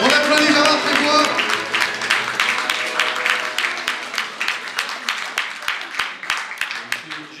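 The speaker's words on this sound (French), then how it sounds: "On applaudit Gérard Trébois." An audience at a neighbourhood community evening applauds, starting with a loud burst mixed with voices and cheering, then settling into thinning, increasingly distinct individual claps that taper off.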